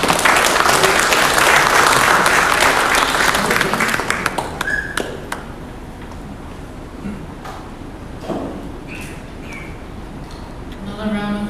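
An audience applauds at a memorandum of agreement signing between APTC, EPC, SWA and SPPCS, dense clapping for about four seconds that then dies away to scattered claps and quieter room sound.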